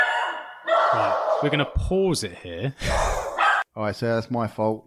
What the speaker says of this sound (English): My rat bag dog's barking.